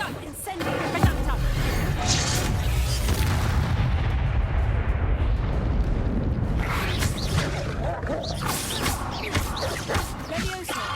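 A Reducto spell blast goes off in the Hogwarts Legacy game, with heavy booming explosions near the start and end around a dense, rumbling roar that stays loud throughout.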